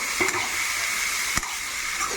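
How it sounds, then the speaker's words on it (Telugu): Ridge gourd, tomato and tamarind sizzle steadily in hot oil, a constant frying hiss with a couple of short scraping stirs. "ఇప్పుడైతే ఇదే ఆయిల్లో నేను బీరకాయ, టమాటా, చింతపండు వేసి వేయించుకున్నా"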